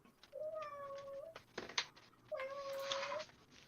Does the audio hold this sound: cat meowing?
yes